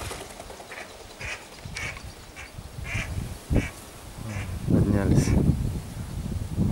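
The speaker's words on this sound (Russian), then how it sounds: "Утки дикие. Смотрю, кто-то с моими перекликивается." Wild ducks quack repeatedly outdoors beside an overgrown stream, some calls distant and some nearer, with rustling and a louder flurry of quacking toward the end.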